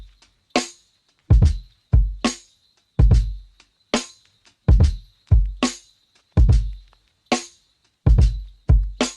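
A bell loop rings as a thin, steady metallic tone beneath a lofi beat. Punchy kick and snare hits repeat in a regular groove over the loop, and each one decays quickly.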